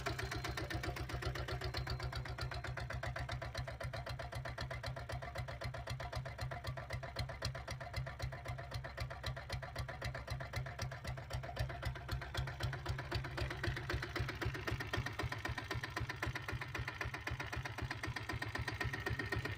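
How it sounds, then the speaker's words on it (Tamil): A 7.5 hp diesel Bullet motorcycle engine idles with a steady, thumping beat, loud and close, running evenly throughout with no voices. "வண்டி பீட் சவுண்ட் கேளுங்க."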